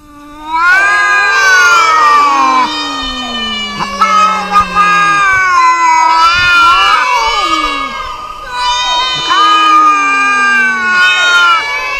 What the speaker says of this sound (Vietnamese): Lũ mèo cứ kêu gào như vậy